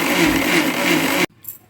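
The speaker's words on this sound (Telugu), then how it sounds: "కొద్దిగా నీళ్ళు పోసుకొని గ్రైండ్ చేస్తే అట్ల పిండి రెడీ అవుతుంది." A mixer grinder roars loudly and steadily while grinding soaked chickpeas with water into dosa batter, then cuts off abruptly, leaving a short quiet tail.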